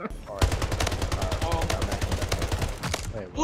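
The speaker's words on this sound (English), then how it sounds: "Who's shooting me?" Rapid automatic gunfire in a video game, a dense stream of sharp shots lasting about three seconds, loud and close, with a voice briefly heard underneath.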